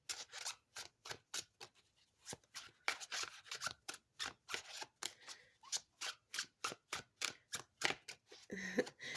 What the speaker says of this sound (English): It makes a squeaky sound when you shuffle.